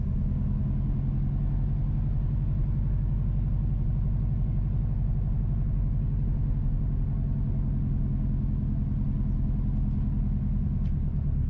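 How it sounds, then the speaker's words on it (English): A car rolls south along Boscobel Drive toward Paradise Edge in Boscobel Heights, St. Mary, Jamaica, recorded from inside the cabin: a steady, close, low engine-and-road rumble holds unbroken for the whole stretch, with no voices. "we are driving south on Boscobel Drive towards Paradise Edge in Boscobel Heights"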